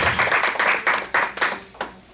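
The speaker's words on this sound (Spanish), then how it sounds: "Démosle un fuerte aplauso a nuestro Salvador" Congregation applause at a church service, a short burst of dense clapping that swells and fades in waves, fairly close and loud, with no voices over it.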